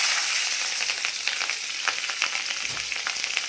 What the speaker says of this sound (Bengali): তেলেই কালো জিরে ফোড়ন দিয়ে দেবো, আর সঙ্গে এই যে লঙ্কা চিড়ে রেখেছিলাম এটা দিয়ে দেবো।